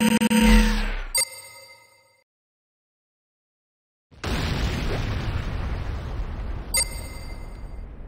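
Large building explosions in the Command & Conquer game Renegade as a GDI weapons factory is destroyed: a loud blast with ringing metallic tones, a few seconds of near silence, then a second rumbling detonation with a sharp ding near the end.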